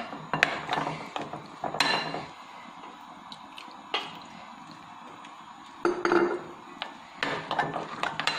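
A spoon stirring a kadhi mixture to break up lumps, producing close, sharp clinks and scrapes in scattered bursts with quiet gaps between, without any talking.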